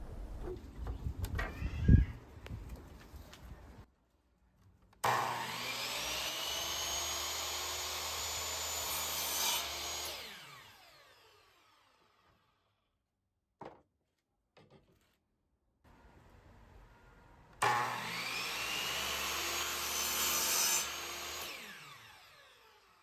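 Wooden shelf boards are cut with a circular saw and a miter saw: two loud, sustained whining cuts of about five seconds each, separated by near silence and a few faint knocks, with some handling noise at the start.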